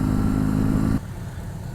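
A BMW R 18 Roctane boxer-engine motorcycle runs loud and close, its engine note strong and steady before dropping abruptly to a lower, rougher idle after about a second.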